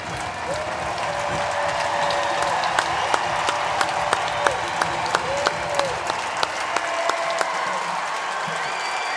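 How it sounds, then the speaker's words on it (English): Steady, dense applause from a standing baseball crowd, with Dodgers players joining in at Oracle Park during an MLB game, a loud continuous wash with sharper nearby claps scattered throughout and faint background murmur. "We got Dodger players applauding."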